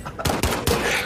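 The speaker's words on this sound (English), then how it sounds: "There's a lot of y'all shooting me!" Gunfire in a shooter video game, three loud close shots in quick succession within about a second.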